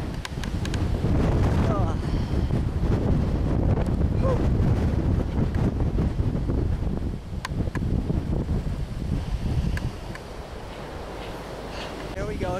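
Strong wind storm in Hollandtown, Wisconsin, October 2010: gusts roar steadily across the microphone for the whole stretch, easing only slightly near the end.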